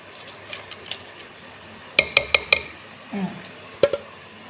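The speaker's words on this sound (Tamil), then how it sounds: "இதே மூடி வச்சுக்கணும் மூடி வச்சுட்டு" Metal lid set onto a cooking pot while making semiya idli: a burst of sharp clinks and clatters near the middle, with scattered lighter taps before and after, close and crisp.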